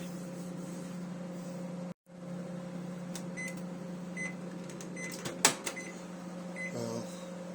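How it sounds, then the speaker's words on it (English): A microwave oven hums steadily close by with a constant low electrical drone, briefly cutting out before resuming, with scattered small clicks and a sharper knock near the end. "I'll turn this off at the mains, this microwave"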